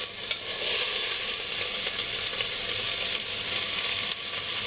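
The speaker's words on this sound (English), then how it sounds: "that's the sound I want, that hard sizzle" Food fries in hot oil with a hard, loud, continuous sizzle, bright and crackling throughout with no voices over it.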